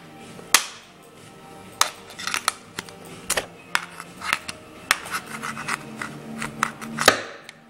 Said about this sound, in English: Now I destroy with this katana.